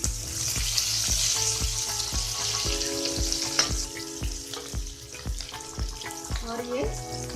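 Onion, chilli and curry leaves sizzle and fry in a pan over medium heat for dal, a steady loud hiss broken by repeated sharp clicks and scrapes of stirring, with no voice.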